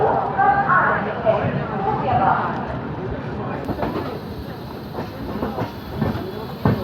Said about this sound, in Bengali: এখানে আমার ট্রেন রওনা দিচ্ছে